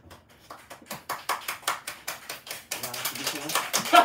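A group's hand clapping, rhythmic and fairly quick, about a dozen claps at an even pace that grow denser and louder toward the end, with singing or chatter layered over the later part.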